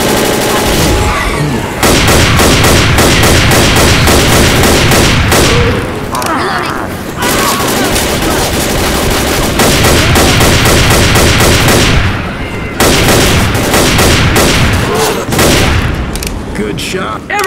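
Dense, sustained gunfire from Left 4 Dead crackles almost without pause, with rapid automatic bursts and heavy shots, breaking briefly twice before resuming loud and close, while game voices call out.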